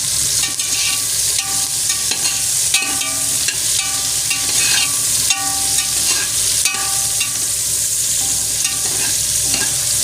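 Onions sautéing in a pan for a meal maker biryani sizzle steadily and loudly while a spoon scrapes and stirs them in repeated strokes, close up, with no one talking.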